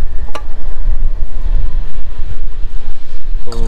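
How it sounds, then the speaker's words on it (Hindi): Strong wind blusters outdoors during a monsoon trip in Uttarakhand, a loud, rumbling roar of gusts buffeting the microphone almost continuously, with faint sounds of people near the end. "वहाँ पर बहुत तेज हवा चल रही है।"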